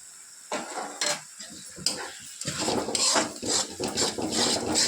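Spice paste with turmeric and a little sugar fried in oil, with a soft sizzle and intermittent spatula scrapes against the pan, close by, building to a denser, louder frying texture in the second half.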